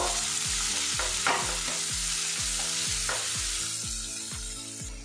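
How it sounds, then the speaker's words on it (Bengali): A large chopped onion fries and sizzles in a pan while a utensil stirs it with regular, rhythmic scrapes, close and steady, with no talking. "পেঁয়াজটা আমি ভাজা ভাজা করে নেব।"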